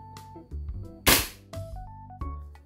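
A single sharp crack from an E&C 2102 Combat Master airsoft pistol, a Chinese-made 2011 Taran Tactical replica, fired during a chrono test; one loud shot stands clearly above a low background hum.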